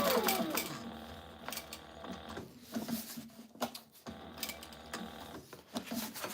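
An industrial sewing machine double stitches an internal pocket on a tactical chest rig, giving rapid mechanical stitching bursts with brief pauses between runs, close and fairly loud, with no talking.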